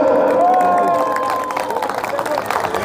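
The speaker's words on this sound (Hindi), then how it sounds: "अपने लिए जोरदार ताली बजा लो।" A crowd at an outdoor political rally claps loudly and steadily, a dense mass of hands mixed with babble and a speaker's voice over a loudspeaker.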